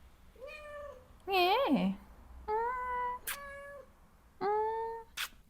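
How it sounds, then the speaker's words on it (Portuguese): A cat sitting on a lap gives several distinct meows, some rising and some drawn out, close and clear, with a brief spoken word partway through. "Tem uma gata no meu colo."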